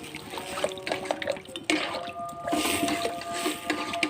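Water poured into a pot of boiled potatoes for ghugni, heard as soft splashing and trickling liquid with a few clinks of utensils against the pot, fairly close.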